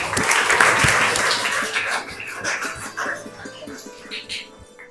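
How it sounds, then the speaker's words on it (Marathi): Students at a school quiz competition burst into a brief round of clapping for a classmate's correct answer, loud at first, then thinning into scattered claps, with chatter and a little laughter mixed in. "झैद साठी टाळ्या"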